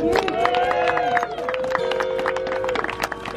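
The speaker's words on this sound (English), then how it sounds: "I hear some wooing from Barely Balanced back there, cheering for someone other than themselves for once" A live audience at a performance event whoops and cheers, with scattered whistles and high woos rising over lively crowd noise, close and energetic, with voices mixed in.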